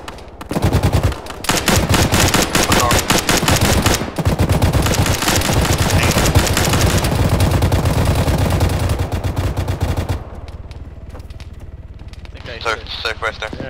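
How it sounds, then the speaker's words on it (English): Dense, sustained small-arms and machine-gun fire from soldiers engaging infantry in the military shooter Arma 3, loud and near, rattling almost continuously for about ten seconds before thinning to scattered distant shots, with voices talking over it. "I'm shooting infantry"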